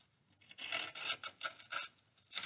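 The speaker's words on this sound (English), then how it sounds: "trimming and yanking and taking away the firewall insulation, so we don't catch a fire in there" Firewall insulation behind a car dashboard is torn and trimmed, producing close, raspy scraping and ripping strokes in irregular bursts.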